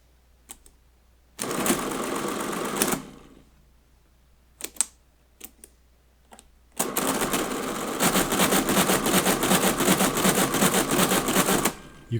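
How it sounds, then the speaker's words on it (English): A Friden STW10 mechanical calculator dividing 100 by 20 by repeated subtraction: a short burst of loud mechanical whirring and clatter, a few isolated clicks, then a long continuous rhythmic chattering run as the carriage cycles. "The machine does division by repeating subtractions until it gets an underflow"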